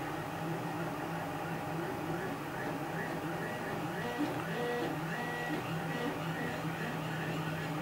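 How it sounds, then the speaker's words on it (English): A steady mechanical whir with shifting stepper-motor tones, like a 3D printer running continuously, with faint talking in the background. "The noise in the background is my 3D printer."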